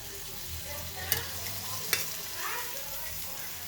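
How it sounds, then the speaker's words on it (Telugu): A ragi roti cooks in a pan with a little oil, giving a faint, steady sizzle and two sharp clicks as it is turned, with no talking. "ఇప్పుడైతే నేను లిటిల్ కొంచెం ఆయిల్ వేస్తున్నాను. సో ఇలా టర్న్ చేయాలి"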